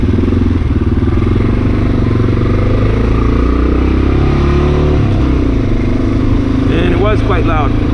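Honda XR650L motorcycle with a loud exhaust and the silencer tip removed, idling close with a heavy, throbbing rumble, steady and loud throughout, joined by a brief clatter near the end.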